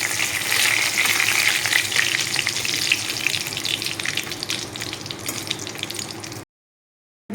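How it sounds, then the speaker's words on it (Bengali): Dried red chilli and bay leaf frying in hot oil left over from frying papad give a loud, close, steady sizzle with crackles that carries on alone, then cuts off into silence. "এখানে আমি ওই পাঁপড়ের তেলেতে একটু তেল অ্যাড করে দিব। দিয়ে দিব শুকনো লঙ্কা"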